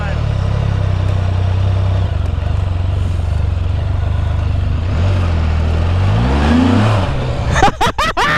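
A Can-Am Spyder F3 three-wheeler runs loudly and close, its engine climbing in a rising rev as it accelerates away, ending in a few sharp clattering bursts.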